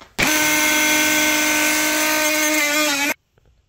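An oscillating multitool fitted with a Dremel blade cutting into oak, a loud close high-pitched whine that starts abruptly, holds steady for about three seconds, then cuts off sharply.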